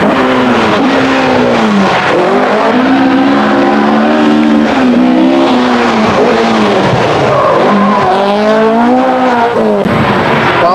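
A Mk2 Ford Escort RS1800 rally car, fitted with a new manifold and exhaust, is driven hard with its engine screaming and revving up and down continuously at close range, the tones rising and falling as it works through the gears.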